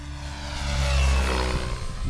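A radio-controlled model helicopter in fast forward flight, its steady motor and rotor whine swelling as it passes nearby, then holding loud, with no one talking.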